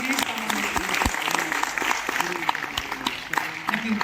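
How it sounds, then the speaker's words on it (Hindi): An audience at a cyber security seminar in Delhi applauds to welcome someone speaker, giving steady, lively clapping throughout, with voices talking over it. "प्लीज तालियों के साथ मैडम का स्वागत किया जाए"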